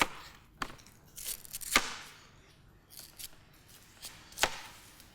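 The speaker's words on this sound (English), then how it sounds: "We're going to cut them into cubes." A knife chops food into cubes after bitter black spots have been trimmed away, giving scattered, irregular sharp cuts against a board, fairly close and moderately quiet, with no talk.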